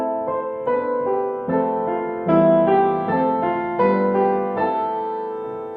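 Piano chords ring out in succession with the sustain pedal held down, each one blurring into the next as the held notes pile up into a thick, smeary wash.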